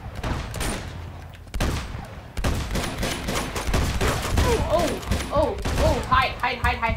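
Loud gunfire bursts from the Uncharted 2 video game, a shotgun among them, with sharp blasts and a dense, overlapping volley throughout, while a player exclaims briefly over the shooting.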